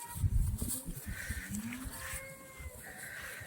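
A nearby black-and-white Holstein Friesian (HF) cow moos in a long, low, drawn-out call, with a second fainter moo and some barnyard rustling.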